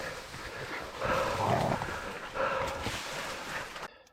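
A Catahoula dog hunting a feral boar lets out a few barks and yips in cane, with whimpering in between, heard at middle distance in two louder bursts before the sound cuts off.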